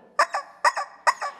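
A voice imitates a hen's clucking: three bursts, each a sharp cluck followed by a softer one, close and fairly loud with short pauses.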